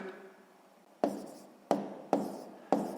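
A pen writes numbers by hand while working a sixth-grade decimal subtraction exercise, with four sharp tapping strokes in a slow, uneven rhythm against a quiet background.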